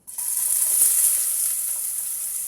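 Black-eyed peas and greens hitting hot cooking oil, starting with a sudden loud burst and settling into a steady, bright, close sizzle with no talking.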